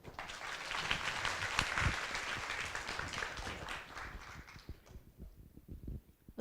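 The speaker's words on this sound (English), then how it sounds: "please give a warm round of applause to all our distinguished panelists" Audience applause for a panel of distinguished speakers at a university event, a dense, steady clapping from a crowd that fills the room for several seconds before thinning into scattered claps near the end.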